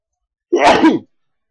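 A single sharp human sneeze, loud and close, lasting about half a second and heard alone with no talking around it.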